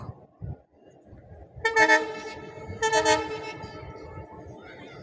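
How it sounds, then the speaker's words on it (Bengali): A train approaching on a railway line near Safipur and Ratanpur in Gazipur sounds two loud, harmonic horn blasts a second apart over low rumbling background noise. "এই যে একটা ট্রেন আসতেছে"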